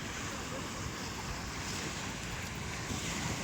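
Sea surf and wind rush as a fishing boat heads out into the waves, a dense continuous wash of water and microphone wind noise heard close and steady.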